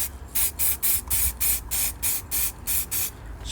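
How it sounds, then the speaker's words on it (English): Repeated short bursts of black aerosol spray paint, about nine hisses in a steady rhythm with brief gaps, close and fairly loud with no talking. "I've just got some black spray paint"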